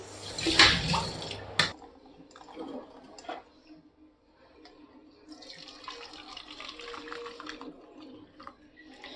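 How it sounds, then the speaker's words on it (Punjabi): Boiled tea water is strained and splashes briefly at the start. Softer trickling and dripping follow at low level in a quiet kitchen. "ਤੁਸੀਂ ਦੇਖ ਸਕਦੇ ਆ ਆਪਾਂ ਇਸ ਪਾਣੀ ਨੂੰ ਹੁਣ ਪੁਣ ਲਿਆ"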